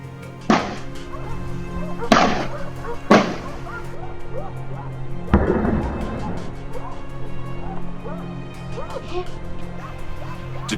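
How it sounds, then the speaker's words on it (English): Gunfire cracks out during a large-scale wild boar hunt on farmland, three sharp shots in quick succession followed by a heavier blast, loud and near, with dogs and commotion continuing underneath. "The loud cracks of gunfire rang out again"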